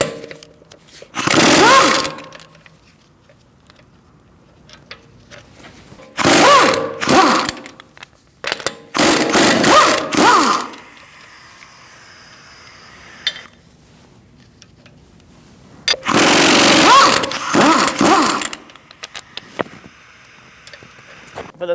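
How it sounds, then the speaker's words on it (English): Bursts of ratcheting as a 17mm socket wrench loosens the wheel on a 2008-2014 Mercedes-Benz C300, four loud clicking runs separated by quiet pauses, close up with no talk. "Using a 17mm socket, we're going to remove our wheel."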